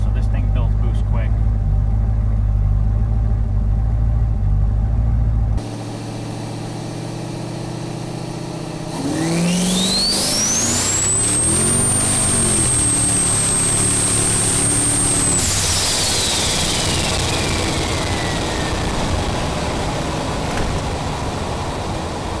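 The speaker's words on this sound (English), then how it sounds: "one thing you'll notice is how fast this car gets into boost" A turbocharged LS-powered Chevrolet Caprice wagon idles, then accelerates hard under boost. The engine rises into a loud roar as a high turbo whine climbs and holds, then fades after the car eases off. Throughout, a person talks over the engine.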